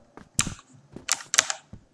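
Gunfire from a zombie-mode shooting video game: three or four sharp, snappy shots come in quick irregular bursts, close and fairly loud against a quiet background.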